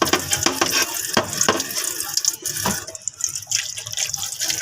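Running water from a sink tap splashes and clatters while dishes are washed, a close, uneven stream broken by sharp knocks and drips that rises and falls without pause.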